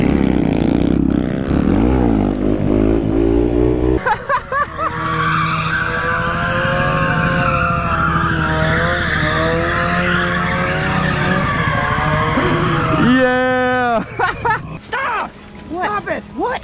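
A Mazda Miata's tires squeal in a long, loud skid with a revving engine and a sharp wavering screech near the end, as people talk and shout over it.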